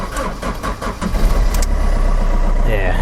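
A Fiat Doblo with a newly fitted exhaust cranks with a rapid chugging starter rhythm, catches and settles into a steady, fairly loud idle close by, with a voice speaking over it.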